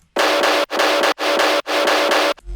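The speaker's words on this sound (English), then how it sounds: "We just pitch it up to match the pitch of our bass and it sounds like this." A snare sample pitched up to match a tearout bass note repeats in four loud sustained pulses, a bright, noisy, buzzy tone.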